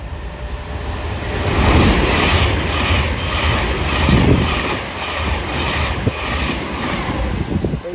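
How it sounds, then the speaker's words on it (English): An Avanti West Coast train from Manchester Piccadilly to London Euston rushes through Watford Junction on the West Coast Main Line, a loud close rumbling roar with rhythmic wheel clatter and a high whine overhead. "Soon to pass through now, 4 minutes late, will be Avanti West Coast going from Manchester Piccadilly to London Euston"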